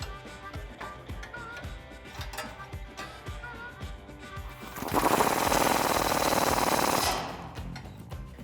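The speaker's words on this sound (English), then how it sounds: "I'm going to take a 19mm socket and wrench, tighten down that lower strut mount bolt" A 19mm socket and wrench tighten the lower strut mount bolt while installing a front leveling kit on a 2005-2021 Toyota Tacoma, with quick, close ratcheting clicks and metallic knocks, then a louder, dense buzzing burst for about two seconds before the clicking resumes.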